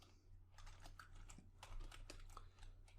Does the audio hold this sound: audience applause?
no